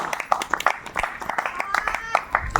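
A church congregation clapping loudly in a quick, steady rhythm, the sharp claps repeating evenly, with a voice and some tonal sound mixed underneath.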